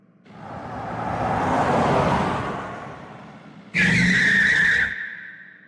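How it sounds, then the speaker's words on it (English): A car revs and surges away with a swelling engine whoosh, then its tires squeal sharply in a loud, sustained skid lasting about a second before it fades. "I am starting the car."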